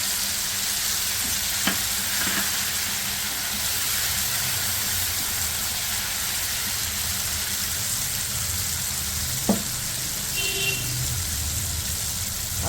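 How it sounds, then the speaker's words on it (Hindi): Steady, close sizzling of tomato paste frying with garlic in a pan, a dense continuous crackle with a couple of brief clinks from stirring utensils. "टमाटर पेस्ट को जब आप लहसुन के साथ इस तरह से करते हैं ना फ्राई"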